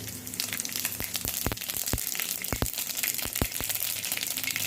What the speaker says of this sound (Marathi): तर आपण मोहरी टाकून घेऊ, जिरे,